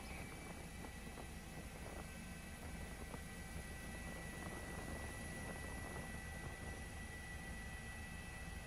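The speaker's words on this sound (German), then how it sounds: "steigt Thomas mit dem Heli nach oben" A rescue helicopter climbs, droning steadily throughout, its engine and rotor hum constant and fairly distant, with no talking.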